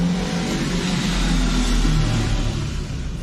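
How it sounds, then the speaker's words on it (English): A motorbike passes outside an open window, its engine a loud, sustained roar that swells and then fades slightly as it goes by. "If you heard that noise of the motorbike, I am so sorry, but I have to keep this window opened."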